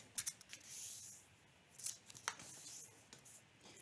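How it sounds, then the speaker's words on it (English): Origami paper folded corner to corner gives soft, close crinkles and a few sharp creasing swipes, faint and intermittent with quiet gaps. "our first step is to fold corner to corner"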